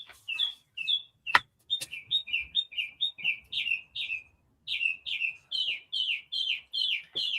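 A crow-sized bird with a fluorescent sheen on its head repeats rapid, warbling two-note calls in a steady rhythm, close and clear, with one short pause midway and a couple of sharp clicks early on.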